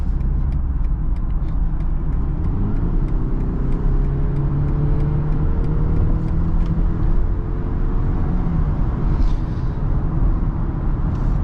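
A 2022 BMW X3 SUV accelerating, a steady loud low engine drone rising gradually in pitch through the gears, heard from inside the cabin with constant road rumble and no talking.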